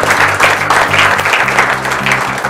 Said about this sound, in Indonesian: Ya, baik, tepuk tangan.